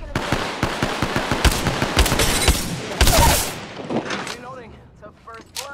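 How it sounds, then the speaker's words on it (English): Rapid automatic gunfire in a video game, dense bursts of shots crackling close and loud, then tapering into scattered pops with a voice speaking over the action. "Opening fire."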